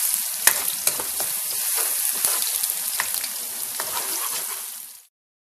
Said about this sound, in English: So I let it cook until the shallot and the garlic a little bit crispy